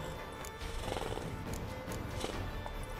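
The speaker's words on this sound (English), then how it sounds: "Get on the horse." A horse in The Witcher 3 video game clip-clops and whinnies amid a dense, loud game soundscape with continuous ambient noise throughout.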